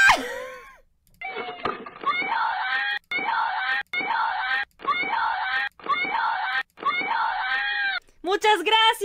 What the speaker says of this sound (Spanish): Para que lo escuche más alto el grito aquí al final.